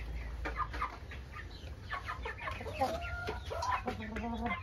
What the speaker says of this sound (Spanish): También tengo la gallina de huevos verdes, es una gallina blanca.